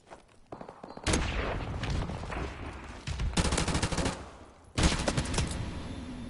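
Machine gun fire in a shooter video game, several rapid automatic bursts with crisp cracks, loud and close, separated by short pauses.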